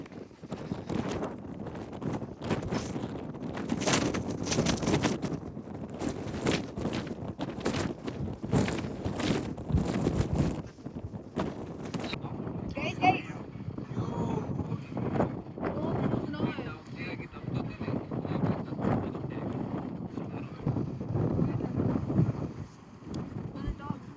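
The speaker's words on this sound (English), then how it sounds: "It's too windy." Strong wind on a hilltop trek buffets the microphone in a steady, heavy roar with gusty bursts, while a voice speaks faintly beneath it.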